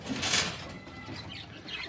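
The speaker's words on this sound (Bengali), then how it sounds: "আমি এই খাঁচায় এইভাবে পায়রাগুলোকে পুষে থাকি" Pigeons kept in a cage indoors make a short burst of wing flapping followed by soft rustling and faint cooing, heard fairly quietly and with no talking.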